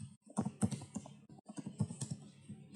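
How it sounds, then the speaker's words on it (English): Keys clatter on a computer keyboard in quick, uneven bursts of typing, close and clear, with no voices over it. "let me type here, data migration"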